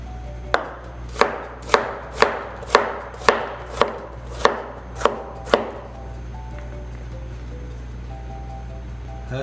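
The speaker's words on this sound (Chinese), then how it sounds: "洋葱切小丁" Knife dicing onion into small cubes on a cutting board in a home kitchen making pork and egg fried rice: about ten sharp, evenly spaced chops over six seconds, close and crisp, then a quiet pause.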